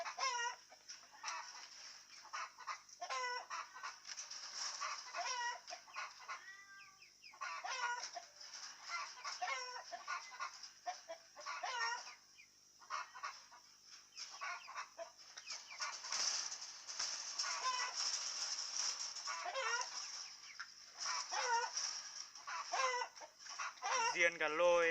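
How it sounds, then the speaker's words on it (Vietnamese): A pair of pheasants, a cock and a hen, call repeatedly with busy clucking and chattering notes and some wing flapping, while a person speaks nearby. "Đây là một cặp đôi gà lôi nhá."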